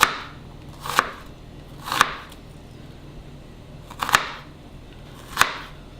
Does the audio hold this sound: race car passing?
no